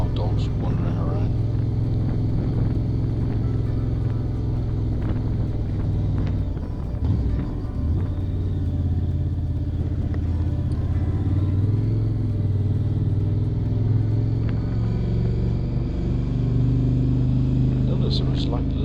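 Car cruising in third gear up a mountain road toward a Greek village, a steady low engine rumble and road noise running throughout at constant load, with no clear revving.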